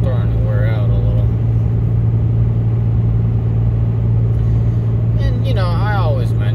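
A 6.7 Cummins diesel pickup hauls a 25,000-pound gross load, its heavy low engine rumble droning loud and constant from start to finish, while a voice is briefly heard near the beginning and again near the end.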